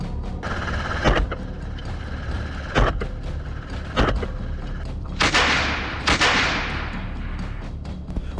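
Gunshots ring out from a helicopter at wild boar in rural Australia: about five sharp cracks at irregular intervals over a constant engine and rotor drone, the later shots trailing off in echo.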